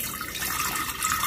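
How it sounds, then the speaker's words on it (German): A little water is poured into a clean vase, giving a steady, close hiss of running and splashing water that lasts through the whole short moment. "jetzt gebe ich da ein bisschen Wasser"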